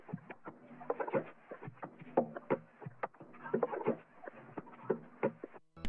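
A percussion loop from a producer's drum kit plays alone, with irregular, clicky hand-drum and shaker hits in a loose repeating groove at a steady moderate volume.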